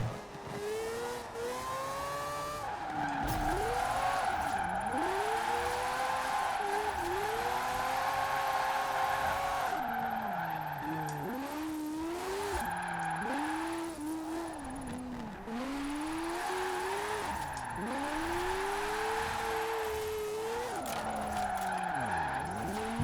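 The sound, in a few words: car drifting with tires skidding in Forza Horizon 4 video game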